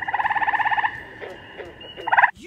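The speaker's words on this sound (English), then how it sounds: "Tree frogs sound like this." A tree frog gives a loud, rapid pulsed trill for nearly a second, then falls quiet before a shorter burst of the same buzzy call, heard up close.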